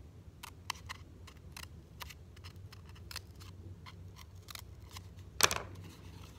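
Scissors snip paper tabs for an elephant piñata, a series of sharp, quiet cuts spaced irregularly, with one louder crisp snap near the end.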